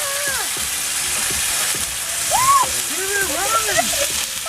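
Bacon frying on a camping stove at dinner time outdoors, a steady close hiss and sizzle running throughout under voices talking.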